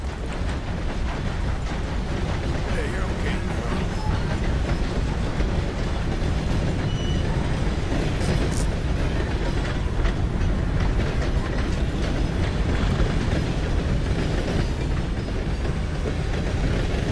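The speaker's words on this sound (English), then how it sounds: "There's a train coming, so I really don't think I should run in front of it." A train rumbles past in Red Dead Redemption 2, a dense, steady roar with rail clatter filling the whole stretch, loud and close with no speech over it.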